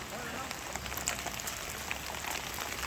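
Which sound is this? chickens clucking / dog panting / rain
rain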